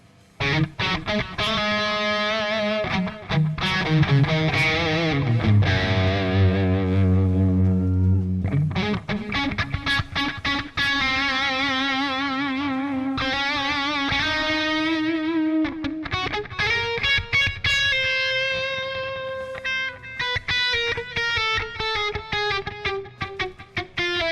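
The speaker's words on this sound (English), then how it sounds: "Let's turn on some delay here for a second and see what we have." A distorted electric guitar through an amp sim with delay plays a lead line with echoing repeats trailing each note, sustained bends and fast runs, no voices.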